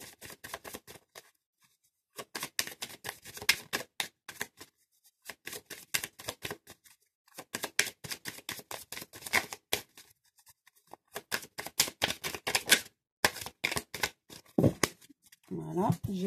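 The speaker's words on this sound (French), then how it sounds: "je brasse cet oracle et je demande aux cartes ce qu'elles ont à nous dire" Oracle cards are shuffled by hand in repeated bursts of crisp riffling and slapping, broken by short pauses, close and fairly quiet.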